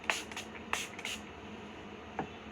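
A hydrating face mist spray hisses in several short bursts, two quick pairs and a lone later puff, close and soft against a quiet room, with no talking.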